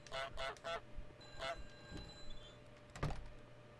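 A goose honks in short bursts in the video game Untitled Goose Game, three quick honks then another, followed by a thud-like clatter, moderately close over a quiet ambient background.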